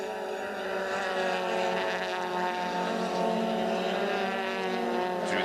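From onboard a BMW touring car racing at the 1998 Bankfin Touring Cars round at Killarney, a loud, steady high-revving engine drone holds throughout with little change in pitch.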